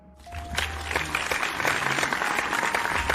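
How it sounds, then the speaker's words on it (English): A small group claps for a student's exam results, building from a few claps into steady, fairly close applause that keeps going to the end. "A round of applause for"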